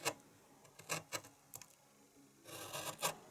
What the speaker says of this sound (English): Then continue slicing in with your chisel.